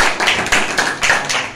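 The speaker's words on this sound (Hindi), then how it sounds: "जोरदार तालियां" A church congregation at a Friday healing meeting breaks into loud, close applause, a thick burst of clapping with a few stronger slaps standing out.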